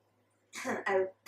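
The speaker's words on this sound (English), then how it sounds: "I was trying to do like a hint cough, but like I'm also getting a cough." Two quick, harsh coughs close together, followed by the start of a third, with near silence before them.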